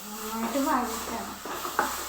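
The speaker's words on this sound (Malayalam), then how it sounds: "ഈ നല്ലെണ്ണയ്ക്കകത്ത് എന്നിട്ട് വഴറ്റണം." Food sautéing in sesame oil in a pan, a soft sizzle with stirring scrapes under a voice speaking close by.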